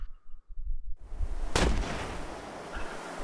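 A single loud gunshot in the Betrayer video game, a sharp close blast followed by a long rumbling tail that slowly fades.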